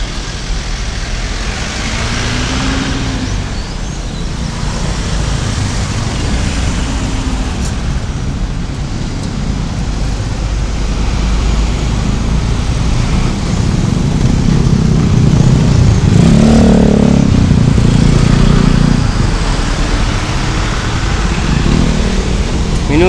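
Steady, dense road traffic of cars and motorcycles passing continuously near a flyover construction site, a constant loud engine and tyre rumble with a few louder vehicles rising out of the wash, no talk.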